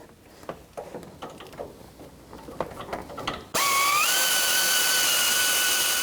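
A 12 mm socket wrench snugs an alternator mounting bolt on a 2006-2012 Toyota RAV4, giving a run of sharp, irregular ratchet clicks up close, then a sudden loud, steady whirring power-tool drone that fills the rest.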